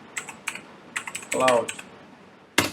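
Typing a terminal command for installing Nextcloud on Ubuntu, with a computer keyboard: scattered close key clicks in short bursts, a brief whirring mechanical rattle in the middle and a louder final keystroke like an Enter press.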